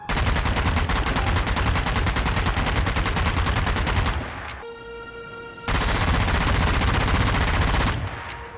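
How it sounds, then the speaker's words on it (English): Rapid automatic gunfire from a rapid-fire-modded gun in the zombie shooter Zombie Army 4, a dense loud continuous burst that pauses briefly midway, leaving a tonal game sound, then resumes at full intensity. "you can just add the rapid fire mod, which makes this gun fire even faster"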